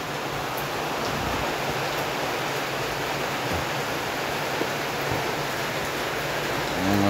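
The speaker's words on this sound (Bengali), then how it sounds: "এখন মাছগুলা দিতেছে, দামি মাছ ভাই, এটা ফ্রাই করছে।" Fish sizzling in a frying pan on a home stove, a steady dense crackling hiss that stays loud and even throughout with no voices.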